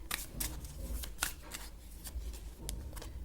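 Tarot cards being drawn and handled during a reading, with a string of quiet, close card snaps and slides at irregular intervals over a soft background.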